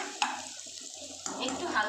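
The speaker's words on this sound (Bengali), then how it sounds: "একটু হালকা ভাজা হয়ে যাক পেঁয়াজ রসুনটা।" Onion and garlic fry in a pan for spinach with pigeon pea dal, a soft sizzle broken by a few quick stirring scrapes, fairly faint and close.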